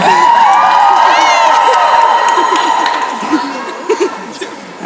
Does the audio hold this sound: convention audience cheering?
yes